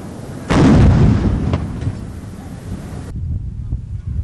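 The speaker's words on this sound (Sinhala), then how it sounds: "අනතුරුව ජනාධිපති සම්මාන උත්තමාචාර පිරිනැමුණේ ආචාර්ය වෙඩිමුර සමගින්." A ceremonial gun salute fires at a Victory Day parade, one loud, booming outdoor report that rolls off with wind noise, followed by quieter open-air ambience.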